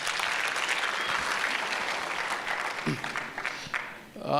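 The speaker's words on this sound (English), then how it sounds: "Can we give another round of applause?" Conference audience clapping at a TVET sector event, a dense, loud ovation that holds steady before thinning out near the end, with a short voice breaking in toward the close.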